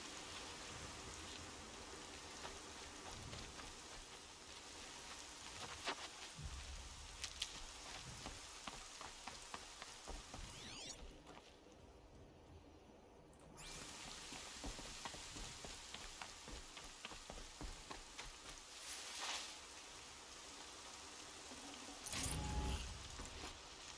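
Steady rain patters and hisses across the scene in the video game Horizon Zero Dawn, a dense, even wash with a brief quieter gap midway and scattered louder drops.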